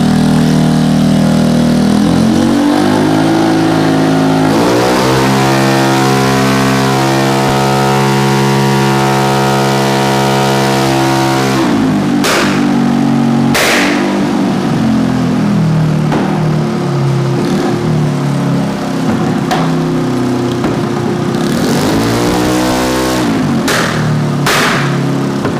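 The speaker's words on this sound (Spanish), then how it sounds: "vamos a enseñarle estos videitos para que vea cómo se mueve la motora en el dyno" A 200cc EFI motorcycle engine runs on a dynamometer, loud and close, rising through sustained revving runs with steady harmonic whine, dropping back briefly, then revving up again near the end.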